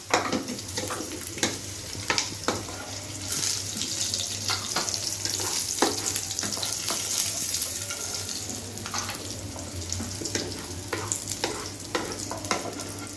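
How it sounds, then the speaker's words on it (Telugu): Cucumber pieces fry in a pan, with a steady sizzle under repeated stirring scrapes and clicks, close and moderately loud throughout. "దోసకాయ ముక్కలు కొంచెం వేయించుకున్నామండి."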